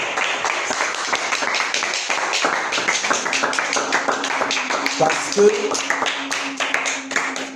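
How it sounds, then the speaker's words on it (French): Congregation at a church revival service clapping hard in a fast, steady rhythm, loud and continuous throughout, with a voice speaking over it. "Applaudissons fort."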